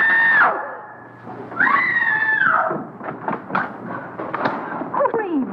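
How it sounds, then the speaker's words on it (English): Screaming and frantic pounding on walls inside a house in an old mystery film, a loud woman's scream followed by irregular heavy thumps and shouts. "What's all the racket? Pounding on walls, scream?"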